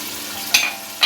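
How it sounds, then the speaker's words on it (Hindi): Cumin, ground coriander, chopped green chillies and yogurt frying for matar pulao, a steady soft sizzle with two brief louder bursts of stirring scrapes in a pot. "अब इसको अच्छे तरीके से भून लें।"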